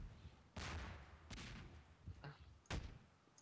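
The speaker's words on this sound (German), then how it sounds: "nee, los, an die Kanonen, schnell." Cannons fire in a GMod pirate ship battle: three sharp, booming blasts spaced about a second apart, each with a short rumbling tail, heard fairly faint amid quieter background noise.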